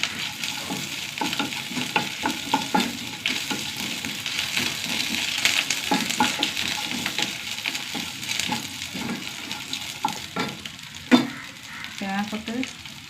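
Two dried red chillies and coconut pieces sizzle in hot oil in a pan, a close crackling fry full of small pops, with a sharper knock of a utensil near the end.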